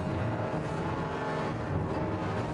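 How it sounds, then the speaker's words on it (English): A Ford Anglia's engine drones steadily in the Harry Potter and the Chamber of Secrets video game, a continuous broadband motor rumble with no pauses, fairly loud and alone. "here's the Ford Anglia, complete with engine noises"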